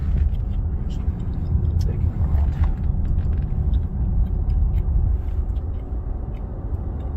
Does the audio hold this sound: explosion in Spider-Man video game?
no